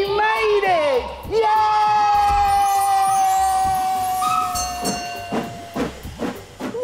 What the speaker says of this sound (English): What a splendid steam train!